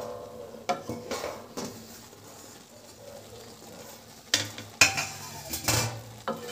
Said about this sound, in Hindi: लेकिन इसे बराबर ही हम चलाते रहेंगे ताकि दूध हमारा नीचे ना चिपके